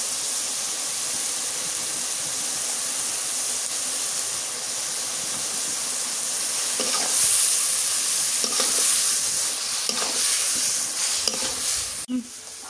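Fish curry masala with onion paste, garlic paste and salt sizzling and hissing steadily in a pan, with scraping stirs breaking through near the middle and end, no talk.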